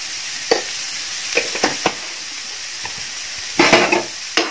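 Onions with salt sautéing in a pan, a soft steady sizzle broken by several quick scraping stirs and light clacks, close and clear with no voices.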